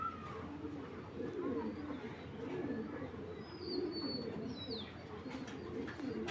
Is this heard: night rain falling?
no